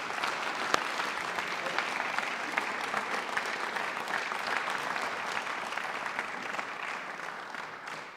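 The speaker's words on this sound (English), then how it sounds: "please give a massive round of applause for this year's winners" A large audience applauds steadily for about eight seconds at a regional volunteer awards ceremony, with dense, sustained clapping at even loudness that holds throughout before easing slightly at the end.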